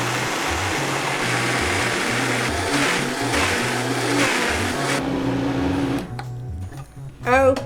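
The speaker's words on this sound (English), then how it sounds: "Then place it on your Vitamix and blend it until smooth." A Vitamix blender churns quinoa porridge with soy milk, maple syrup and cinnamon in a steady, loud whir with pulsing motor tones, stopping near the end as a voice begins speaking.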